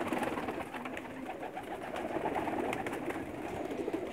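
Pigeons, all females, coo softly in a rooftop loft in a Pakistani village, their low rolling calls overlapping in a close, steady murmur.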